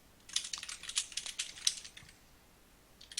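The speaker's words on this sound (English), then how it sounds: "the typing is making me nervous" Rapid clattering keystrokes on a computer keyboard come in a quick burst of taps, then pause, with a few more taps at the end, close and moderately loud.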